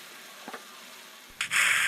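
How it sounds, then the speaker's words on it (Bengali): Spiced masala frying in oil in a pan over medium heat, with a couple of faint stirring scrapes followed by a sudden loud burst of steady sizzling that fills the end. "মশলাগুলোকে নেড়েচেড়ে ভালো করে মিশিয়ে নিচ্ছি"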